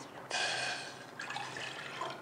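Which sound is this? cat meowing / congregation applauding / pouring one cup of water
pouring one cup of water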